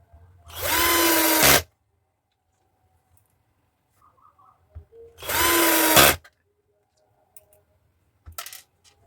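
A power drill drives small screws into the terminal of a 6-inch speaker box: two loud, whirring bursts about a second each, separated by quiet gaps with faint clicks and handling sounds.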